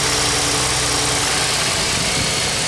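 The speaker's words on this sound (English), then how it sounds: "Engine's still, other than that, running pretty good." A Pontiac Grand Am engine idles steadily, loud and close, with a constant low rumble and a broad mechanical hiss and no voices over it.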